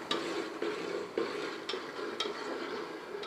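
Khoya being stirred into sugar syrup for besan chakki, a spoon scraping the pot in regular strokes about every half second, with a soft sizzle underneath.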